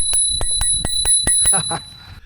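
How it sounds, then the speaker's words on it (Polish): A small bicycle bell on a HITWAY BK6S 36V 250W electric folding bike rings about eight times in a quick, steady series of bright, clear strikes, close and loud, ending with a couple of softer rattling rings. "Zobaczcie, jaki ma taki gustowny, fajny dzwoneczek."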